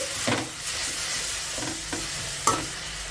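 Chopped coriander stirred and fried in a pan over a medium flame, a steady soft sizzle with a few scraping stirs and one sharp clink, close by and without talk.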